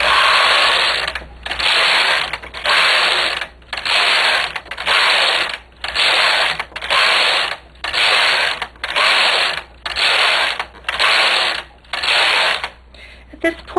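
A domestic knitting machine carriage sweeps back and forth across a gauge swatch in green yarn, a loud, close mechanical whirring and ratcheting in about a dozen regular bursts separated by brief pauses.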